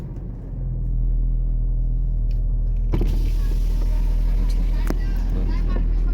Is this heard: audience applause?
no